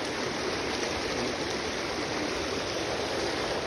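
Sudden floodwater rushes past continuously, a loud broadband roar like a torrent or waterfall, steady and close with no pauses.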